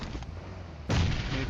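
A grenade goes off in PUBG Mobile: quiet background, then a sudden heavy blast that rumbles on to the end, with someone talking faintly underneath.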